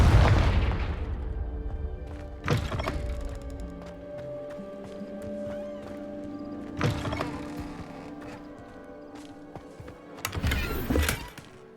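Confringo spell blasts in Hogwarts Legacy, three separate sharp booms spaced a few seconds apart, each a loud burst with rumble, over a steady low ambient hum and faint tonal game music.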